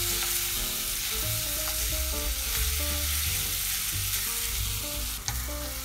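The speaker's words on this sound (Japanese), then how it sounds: "鶏肉も炒めていきます。 こんがりと焦げ目がつく感じで炒めたいですね。" Chicken pieces sauté in oil in a frying pan until browned for a Napolitan pasta, giving a steady, close sizzle throughout with music playing over it.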